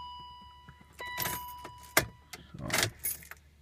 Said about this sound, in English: So I'm going to turn off the car and try to turn it back on.